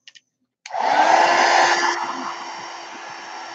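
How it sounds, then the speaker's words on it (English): A heat gun drying watercolor paint starts abruptly after a couple of faint clicks and then blows with a steady, loud, close whooshing hum that eases slightly in level as it keeps running. "Heat gun."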